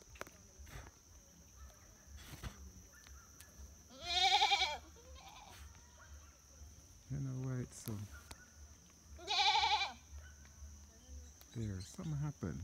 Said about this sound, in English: And then here are more goats.